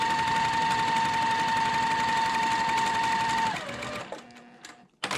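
A sewing machine hums in a continuous, close, fast run of stitches along a quilt block strip, then slows and stops, followed by a few light clicks and rustles.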